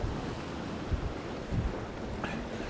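Steady wind buffeting a microphone on a seashore while fishing, a constant low rushing roar with faint surf beneath and occasional stronger gusts, no talking.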